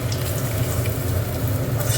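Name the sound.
fish frying in oil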